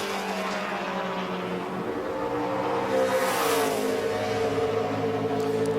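A NASCAR Sprint Cup car on a qualifying lap at Phoenix, its engine droning steadily and loud, rising in pitch partway through as it passes.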